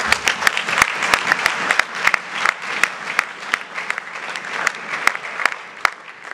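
An audience applauds in a continuous rush of clapping, with sharp individual claps cracking out above the crowd at irregular moments, loud and close throughout.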